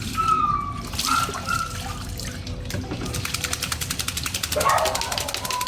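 Water trickles and splashes as a pet's drinking water is poured out and refilled, close and fairly loud, with intermittent dribbling and dripping.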